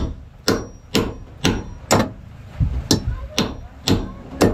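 Steady hammer blows, about ten sharp metallic strikes at an even pace, while fitting a rubber radiator hose on a Mazda; close and fairly loud with little talk.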